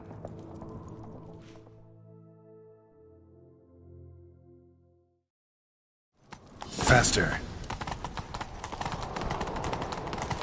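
After a quiet, tonal stretch, rapid hoofbeats of a galloping horse in the video game The Witcher 3 start up and continue, thudding close and loud, with a brief voice over them.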